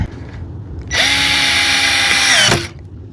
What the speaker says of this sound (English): the drill's losing battery here